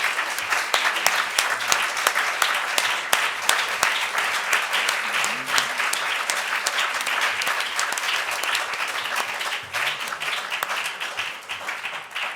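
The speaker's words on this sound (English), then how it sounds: "Can I give a big round of applause to our scientists" An audience at a 5G conference panel gives scientists a big round of applause: dense, sustained clapping filling the room for over twelve seconds, with no letup.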